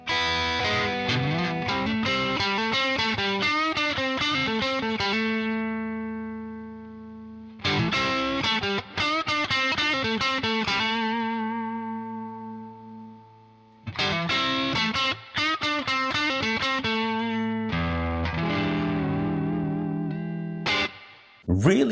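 Electric guitar played through a Hubcap John custom distortion pedal with its diode clipping settings, heard as repeated strummed chords and ringing phrases in bursts with decaying sustain, loud and alone without talk.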